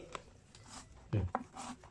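A knife slices the skin off a piece of pork on a board, with one dense, scraping cut in the middle and a couple of lighter taps after it. The sounds are close and moderately quiet.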